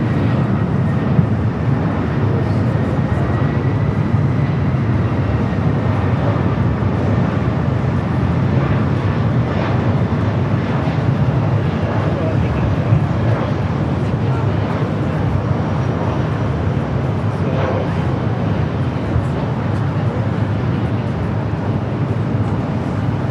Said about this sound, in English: It's Flight 280 heading back to London Heathrow, that 777 at